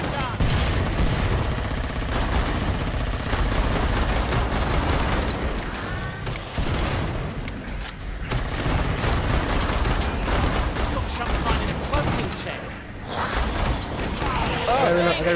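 Rapid gunfire from weapons in the zombie shooter game Killing Floor 2, dense bursts and fusillades running almost nonstop at a loud level, with players talking over the shooting.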